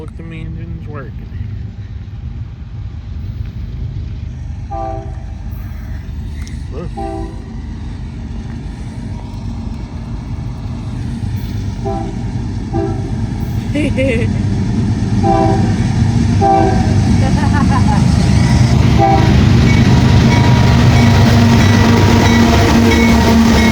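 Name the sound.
UP and BNSF freight trains passing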